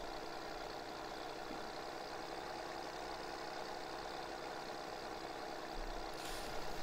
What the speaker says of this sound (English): It is a nice tractor.